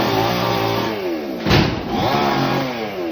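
A chainsaw cuts a tree in Coimbatore, its engine loud and close, pitch rising and falling, with a sharp burst of cutting noise in the middle.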